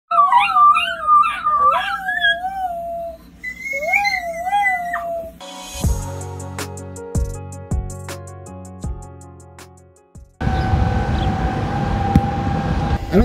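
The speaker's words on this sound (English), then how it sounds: "we're gonna be listening for a tornado siren" A dog howls and whines in rising and falling wails, then a steady, droning tornado siren sounds from a distance during its weekly noon test and holds.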